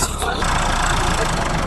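A tractor engine running near a riverbank embankment during flood alert on the Sutlej, a loud steady chugging drone close by with no clear speech.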